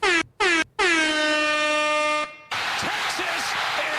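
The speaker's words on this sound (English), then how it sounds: "You love that air horn, man." Loud soundboard air horn effect, two short blasts then one long sustained blare that cuts off into a noisy burst of clattering crowd-like sound.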